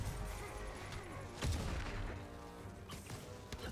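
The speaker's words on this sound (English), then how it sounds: "Grenade incoming!" Combat in the Marvel Spider-Man video game: a heavy grenade blast strikes mid-way amid rattling gunfire and impacts, loud and dense against a constant game background.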